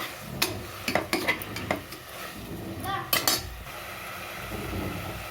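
Metal utensils scrape and clink against a pan in quick, irregular strokes while mint, coriander and spices sauté and sizzle softly underneath, close by, for chicken biryani.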